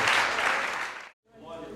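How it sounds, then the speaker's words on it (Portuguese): Church congregation applauding during a worship service, broad dense clapping that fills the space, cuts out abruptly, then returns more faintly. "Aplauda Ele, porque Ele já proveu aquilo que você precisava nesta noite."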